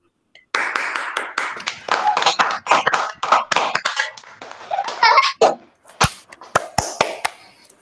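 Students at a school Hindi Day quiz competition clap for a correct answer, an uneven burst of many hands with children's voices and giggles mixed in, thinning into a few sharp separate claps near the end.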